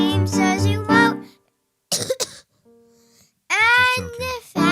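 A person coughing, a few short rough bursts between stretches of loud, close talking and babble.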